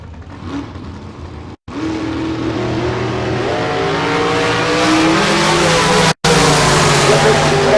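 Drag racing cars launching at a bracket race, including a rear engine dragster, engines roaring loudly and steadily rising with a continuous revving drone, close and dominant, with brief cutouts.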